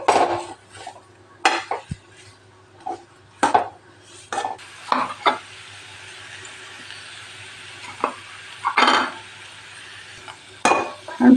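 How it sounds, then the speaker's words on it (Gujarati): A spoon stirring date laddu (khajur ladoo) mixture in a pan, with intermittent clanks and scrapes against the metal and faint sizzling between strokes, close and fairly loud, no one speaking. "આ રીતનો હલાવતા રહેવાનું"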